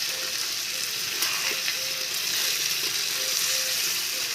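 Chicken curry frying in a pan over high gas heat, a steady close sizzle running throughout with faint stirring and scraping.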